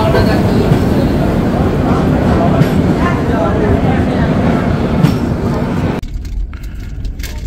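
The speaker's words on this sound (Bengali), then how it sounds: "বারাউনি জাংশন ছেড়ে বেরোলো আমাদের ট্রেন।" Mithila Express train pulling out of Barauni Junction from platform 4, heard from inside a 2AC coach as a loud continuous rumble of wheels and running gear, with the noise dropping sharply toward the end.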